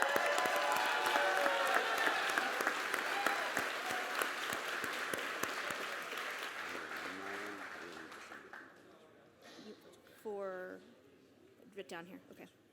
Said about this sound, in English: You have to keep clapping so it's not awkward when they walk up.